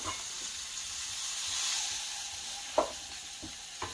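A pot roast browns in oil in a pan with a steady, soft sizzle and frying hiss throughout, broken by a few faint clicks and taps of utensils.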